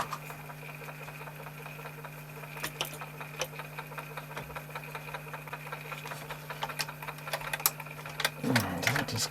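The mechanism of a Technics RS-M260 three-head dual Dolby cassette deck makes an odd noise during a check-over. It is a continuous mechanical hum with a fast, regular ticking chatter, and it grows louder and rougher near the end.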